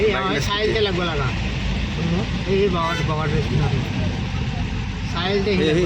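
Road traffic with motorbikes and cars passing, a steady engine drone running underneath near, continuous conversation by a man.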